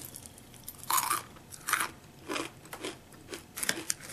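Crunchy puffed corn snack, like exploded corn kernels, chewed close to the mic in a series of crisp crunches, several loud bites followed by softer, irregular mastication.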